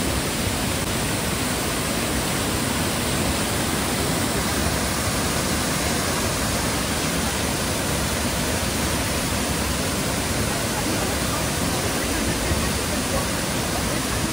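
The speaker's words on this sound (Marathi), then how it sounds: "धबधब्याच्या या पाण्याच्या तुषार या अंगावर उडतायत" Powerful, unbroken roar of Thoseghar waterfall crashing into its plunge pool, a dense, uniform rush heard up close for the whole stretch.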